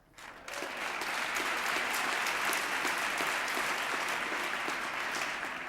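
Sustained applause from members of Congress during a 1996 State of the Union address, a broad even wash of many hands clapping in a large chamber, starting abruptly and holding steady throughout.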